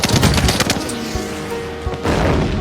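Cartoon gunfire on Christmas as an incoming object is shot at: a rapid burst of loud overlapping shots and booms that thins out, then a second louder blast near the end.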